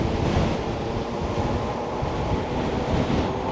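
Strong wind buffets the microphone outdoors, a steady rumbling roar with no pauses and no other distinct sounds.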